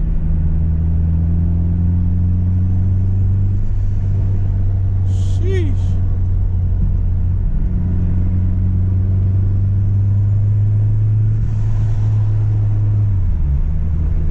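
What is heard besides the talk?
turbocharged car engine accelerating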